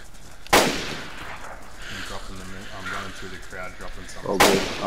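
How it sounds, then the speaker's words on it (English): Gunfire in DayZ as someone shoots up the town, two sharp cracking shots a few seconds apart, fairly distant, with people talking in between. "Is it you guys firing? Yeah, way down there, just shooting up the town."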